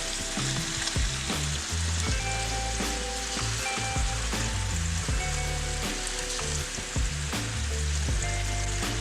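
Swai fish fillets sizzle steadily in a hot pan, a dense, continuous frying hiss with occasional faint clinks and scrapes. It stays close and even throughout, with no voices.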